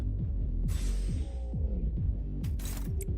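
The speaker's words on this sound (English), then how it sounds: "Do you hear that? That's the sound of drums." Drums pound in the Limbus Company video game, a steady run of deep beats about four each second, loud and close, with brief bursts of clashing noise over them.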